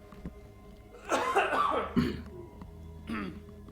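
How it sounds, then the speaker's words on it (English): A close, harsh coughing fit in a couple of raspy bursts, followed by one more cough after a short pause. "while I cough my lungs out"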